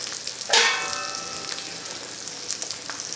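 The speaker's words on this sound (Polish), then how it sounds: "i smażę przez jakieś 3 minutki" Bacon and eggs frying in a pan give a steady sizzle and crackle throughout, with a brighter burst of spitting near the start.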